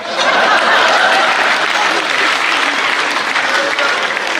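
An audience at a Hindi comedy poetry recital (hasya kavi sammelan) bursts into loud, sustained applause close by, with a few chuckles mixed in and no speech over it.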